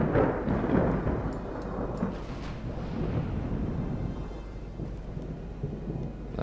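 Stormy weather in the naval strategy game Ultimate Admiral Dreadnoughts brings deep rolling thunder that swells and fades over a steady hiss of rain, loud and continuous throughout.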